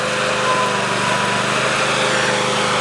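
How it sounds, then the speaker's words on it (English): A 2007 Tiiger auger bucket spins its auger to lift itself, driven by a loud, steady, high-revving engine drone that runs unbroken throughout, with no voices. "You hook the strap around and spin the auger, and basically it just picks itself up."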